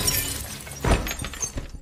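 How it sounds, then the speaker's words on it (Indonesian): A glass bottle smashes against a person in a zombie film scene, a harsh shattering crash with a bright burst of breaking glass and scattered debris clatter, fairly loud. "Teresa yang sadar akan niat buruk Johnson langsung menghantam Johnson dengan botol kaca."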